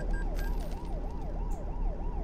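A wailing police siren in Euro Truck Simulator 2 rising and falling in a steady rapid cycle, loud and continuous with faint mechanical background noise.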